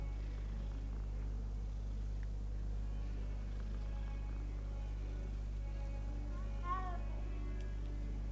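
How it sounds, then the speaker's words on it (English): A cat being petted in the video game Hogwarts Legacy purrs steadily under a low, constant game ambience, with a single short meow rising near the end. "I want to pet the kitty."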